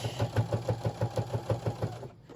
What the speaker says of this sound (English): Okay, so I'm lined up, gonna back stitch.